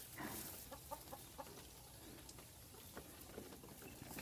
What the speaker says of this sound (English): And there's a chicken out there.